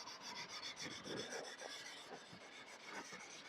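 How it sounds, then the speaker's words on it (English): Steady back-and-forth wet sanding of car paint by hand, a soft rasping scrape in uneven strokes, close and quiet. "you don't want to be sanding through to your base coat"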